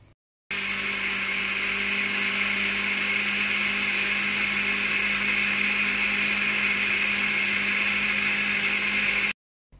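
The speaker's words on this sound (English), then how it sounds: "we'll blend it this for 15 seconds" An electric blender whirs steadily and loudly for about nine seconds as it blends a mixture with added oil, starting and stopping abruptly, with no talking.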